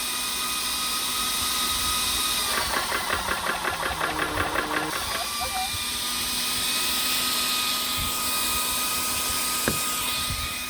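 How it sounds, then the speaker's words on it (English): A 4500 psi PCP air compressor drones steadily with a constant whine while a bleeder valve gives a short sputtering puff of air and condensation, then the machine keeps running, close and loud. "I just give it a puff because it's going to have condensation in the system that'll blow out"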